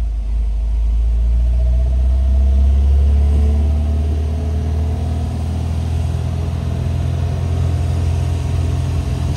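A classic MGB's engine drones low and steady while driving, with a swell of revving early on and then a constant rumbling note, close and continuous with no voices.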